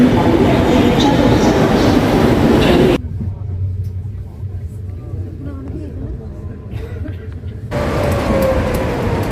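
Loud, steady rumble and rattle of a moving train, heard from inside a carriage, dropping to a quieter, muffled stretch in the middle before the roar returns.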